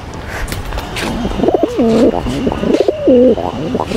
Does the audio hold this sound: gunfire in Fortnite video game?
no